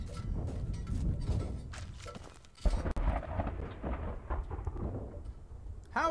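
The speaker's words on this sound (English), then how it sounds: "How is there a storm?" A thunderstorm in the horror game The Beast Inside brings low rolling rumbles and rain, with a sharp crack partway through and a brief tonal sound at the end.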